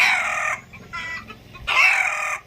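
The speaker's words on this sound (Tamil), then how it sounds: "கோழி ஏன் கத்துதுன்னு தெரில, கொஞ்சம் சத்தம் கேட்டாலே கத்திகிட்டே இருக்குங்க" A chicken clucking loudly and close, two agitated squawking bursts separated by a brief quieter cackle.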